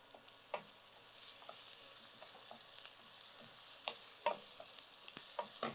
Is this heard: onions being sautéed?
yes